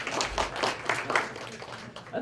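An audience applauds in a room after a speaker's thanks. The clapping is brief and fairly faint, in uneven bursts, with a voice partly audible beneath it.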